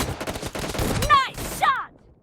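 Shotgun blasts in a video game come as loud close bursts with swooping game effects, followed by a short ringing tail, while announcer-style voice lines play over them.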